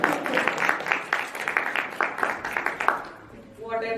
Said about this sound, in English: I think we should give another round of applause.